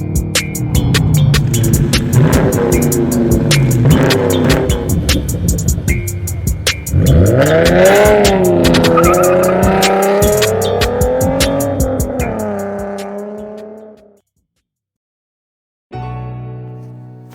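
A Chrysler 300 S AWD V6 sedan drives and accelerates hard, its engine rising through the revs in a loud, close run, then easing off before a sudden cut to silence and a brief final burst.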